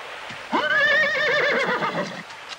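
One loud, close whinny from a horse tied by a river, rising sharply, then trembling through a long wavering call that fades after about two seconds, with faint hoof sounds and no talk.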